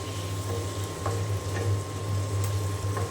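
Pointed gourd sautés with spices in a pan, a steady low sizzle with a few soft stirring scrapes spaced through the short stretch.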